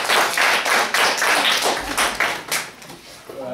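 An audience gives Garrett a round of applause at a persuasive speech event, a short burst of dense clapping close by that fades over a few seconds, with a voice briefly heard near the end.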